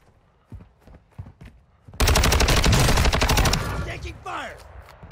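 Rapid automatic gunfire in Warzone 2 Resurgence erupts suddenly after a few scattered footstep-like thumps, a loud sustained burst of shots that tails off into fainter reports.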